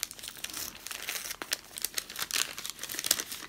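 Crinkling of parcel packaging as a box of leather goods is unboxed, a steady stream of crisp rustles and crackles with a few louder crunches, close and without speech.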